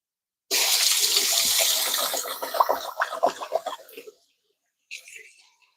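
An onion is rinsed under a running kitchen tap, with a loud close gush of water that breaks into splashy spatters as the onion is turned, then stops; a brief second trickle follows after a pause.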